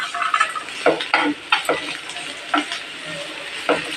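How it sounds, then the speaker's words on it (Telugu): A spoon stirs cooked toor dal into sliced ridge gourd frying with curry leaves in a pan, giving close scraping strokes in an irregular rhythm over a steady soft sizzle. "కందిపప్పు ఉడకబెట్టుకునింది కొంచెం వేసి బాగా కలిపెట్టేస్తాం"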